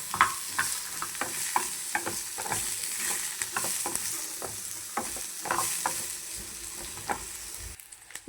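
Food sizzling steadily in a hot pan, with repeated sharp scraping and stirring clicks over a continuous hiss that cuts off abruptly near the end.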